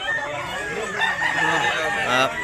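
A rooster crows in a rural Cebu setting, a drawn-out call rising and falling over about two seconds amid busy background noise and faint nearby voices.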